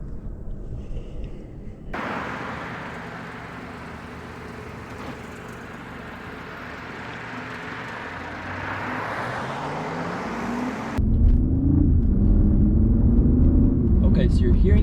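A BMW i8 pulling away from a stop: a steady low vehicle rumble with broadband road and cabin noise, then a rising engine tone and a louder surge near the end as it picks up speed.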